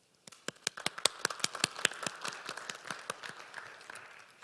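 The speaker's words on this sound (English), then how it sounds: "Please give a big round of applause to all participants." A conference audience claps for the session's participants, starting as a few sharp, separate claps and building into scattered, fairly quiet applause in a hall.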